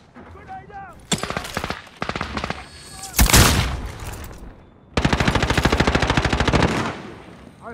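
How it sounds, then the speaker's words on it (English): A cluster strike airstrike in a military shooter video game: bursts of rapid machine-gun fire, a loud booming blast in the middle, then a long sustained rattling volley, all close and forceful. "Cluster strike is go for launch."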